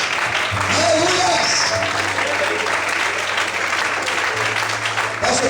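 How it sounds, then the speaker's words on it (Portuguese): A church congregation claps continuously and loudly while a pastor keeps speaking over the applause and a low sustained tone hums underneath. "Feche os olhos, aplauda o Senhor."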